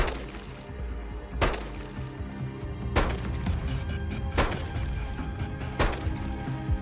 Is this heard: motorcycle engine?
no